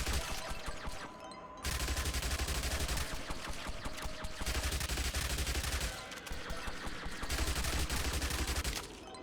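Guns fire nonstop at zombies in the video game Yet Another Zombie Survivor, a dense, loud barrage of rapid shots that keeps going throughout with only brief dips in intensity.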